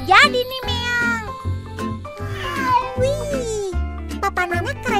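Repeated high, wavering meows in a children's animated cartoon, sounding over and over with a childlike, sing-song quality that suggests a voice imitating a cat, loud and close.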